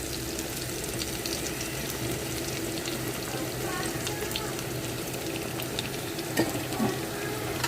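Onion pieces and green chillies fry in ghee with masala for a fish biryani, a continuous close sizzle with occasional stirring clatter, while a voice talks faintly underneath.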